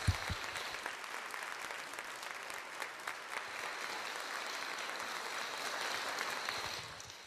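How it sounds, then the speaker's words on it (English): An audience applauds Portia Simpson Miller at a speaking event, with steady, dense clapping that holds evenly and begins to fade at the very end, with no talking. "Please join me in another round of applause for Mrs."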